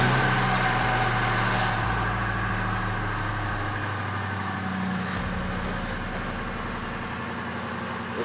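A deep V8 police car engine with a straight-piped big exhaust idles with a loud, rumbling exhaust burble, steady and close by, with no talking.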